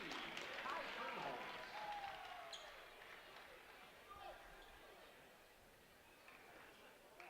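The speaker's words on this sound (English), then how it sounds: "And the Beaver Dam bench standing and applauding." A high school basketball bench standing and applauding late in a game, with crowd clapping and gym noise fading under a commentator's voice and sneaker squeaks.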